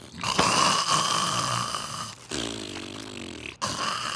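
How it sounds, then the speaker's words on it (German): A cartoon character snores loudly and nearby in long drawn rasping breaths, two or three snores separated by brief silent gaps, with no talking. "Komm schon, du schnarchst!"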